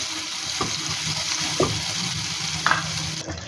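Potatoes with chili sizzle in a frying pan as a spoon stirs and scrapes them, with soft continuous frying hiss and a few distinct stirring clinks and scrapes spaced a second apart, no talking.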